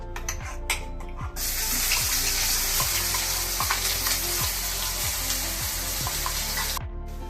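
Loud, continuous frying hiss as onion-garlic paste fries in a wok, with a rhythmic low thumping underneath and occasional stirring clatter; no voices.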